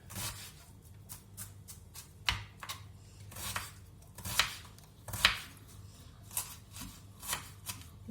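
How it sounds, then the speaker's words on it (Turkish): Quiet, irregular knife chops through onions on a cutting board, sharp taps spaced unevenly over a low background hum, with no one speaking. "Arkadaşlar doğruyoruz şimdi soğanımızı"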